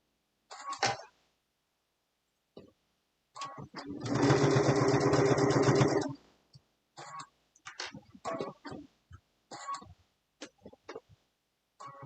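A sewing machine runs for a steady two-second burst of rapid stitching over the appliqué hearts of a mug rug, with short clicks and handling noises before and after it in an otherwise quiet room.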